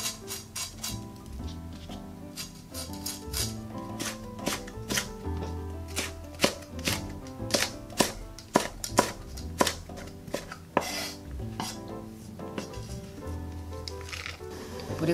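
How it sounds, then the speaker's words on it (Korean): A knife chops steadily on a cutting board, quick repeated taps slicing seeded green and red chili peppers diagonally, over faint background music, with no one speaking. "청고추, 홍고추는 씨를 빼고 어슷하게 썰어 줄 겁니다."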